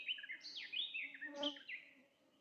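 Several bright, twittering bird calls chirp in quick succession outdoors in a forest, fairly close, over a soft low background hum.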